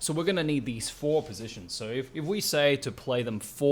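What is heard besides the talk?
None of the usual background noises is heard.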